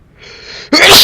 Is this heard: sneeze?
yes